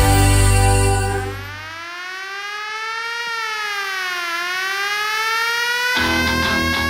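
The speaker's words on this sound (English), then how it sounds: "If you can hear the siren" A siren wails on a radio show, rising and falling in a long, loud sweep after a brief musical opening, heard on its own with no talk over it.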